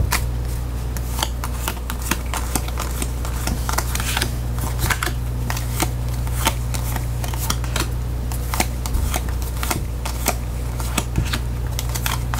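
Tarot cards are shuffled and drawn up close, a steady run of crisp riffles, flicks and taps with no voices.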